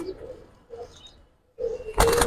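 Afsan grizzle pigeons coo softly in low, murmuring bursts, fading into a quiet gap before a closer cooing phrase returns, then a sudden louder rustling clatter near the end.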